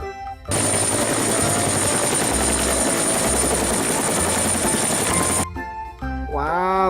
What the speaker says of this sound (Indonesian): Wih, ada helikopter.